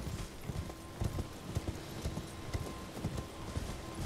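Horse hooves clip-clop steadily in the Elden Ring video game, a rhythmic run of hoofbeats over a busy game backdrop, alone with no talk.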